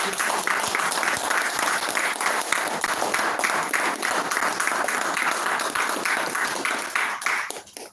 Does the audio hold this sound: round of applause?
yes